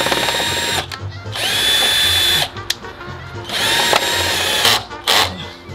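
A power drill drives screws into a car fender flare while fitting a wide-body kit, with long whirring bursts that stop and start, loud and close, separated by short pauses.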